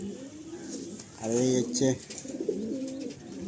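A pair of tournament-quality racing pigeons coos close by in soft, rolling bursts, while someone talks over them.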